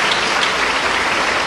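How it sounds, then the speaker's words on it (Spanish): Steady dense applause from a church congregation honouring a testimony, a continuous wash of hand claps with no pauses, fairly loud and close, with no voices over it. "Aplauso para el Señor Jesús"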